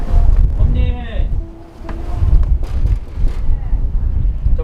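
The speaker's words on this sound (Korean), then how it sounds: "바람이 불어가지고" Strong wind buffets a hillside refugee village in Yeongdo, Busan, as a low rumbling roar with gusts that swell and dip, while a voice talks over it.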